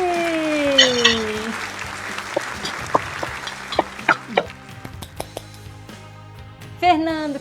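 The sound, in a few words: studio audience applause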